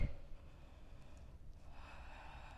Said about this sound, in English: I'm gonna choose a downward dog so I can stop breathing so heavily.